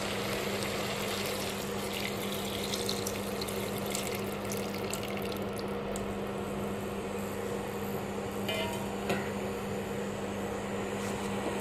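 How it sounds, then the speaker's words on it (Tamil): Tamarind water is poured into a pot of simmering hotel-style vegetable sambar, a soft steady liquid pour and bubbling over a low constant hum, faint and close, with no talk. "இப்போ இந்த புளி தண்ணியை விடலாம்."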